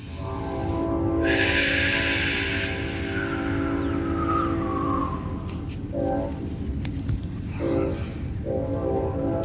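A train rumbles past nearby with a steady heavy roar, a long horn blast sounding early on and fading, then clattering wheels and screeches.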